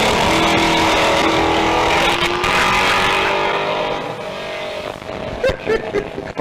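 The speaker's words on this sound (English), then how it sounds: "Go the Kingswood drag car." A Holden Kingswood drag car roars loudly past at a sprint event, its engine note sustained and rising before fading away, with a few sharp bursts near the end.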